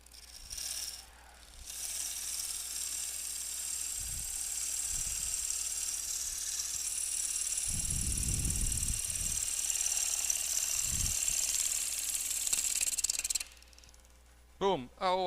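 Bowl gouge cutting wood on a wood lathe, a steady high hissing shear that runs for most of the clip, with low thuds underneath and someone speaking at the end.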